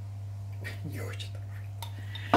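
A utensil stirs cooked pasta together with a persillade dressing in a dish, giving a few soft scrapes and light clinks over a steady low hum, fairly close and quiet.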